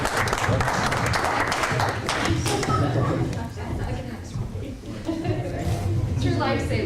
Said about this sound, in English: I think we all should give a round of applause for.